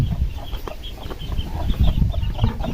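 Newly hatched chicks in a bucket give short, close, repeated peeps over low rustling and handling noise.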